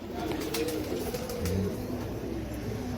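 Male pigeon cooing among a loft of birds, low rolling coos repeating over a continuous murmur of other pigeons and background rustle, close and fairly loud.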